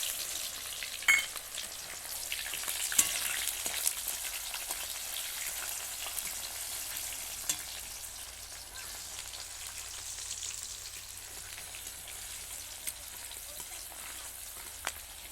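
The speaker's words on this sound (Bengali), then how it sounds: "এবার পেঁয়াজ কুচিগুলো দিচ্ছি।" Chopped onions fry in oil with bay leaves in a pan. A steady, faint sizzle runs throughout, broken by a few small pops and clicks.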